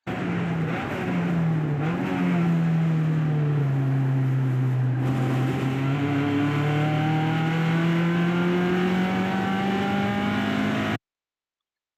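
A race car at VIR North holds a steady, loud engine drone from an onboard view, the pitch dipping and climbing as it brakes and accelerates through the corners, with no voices.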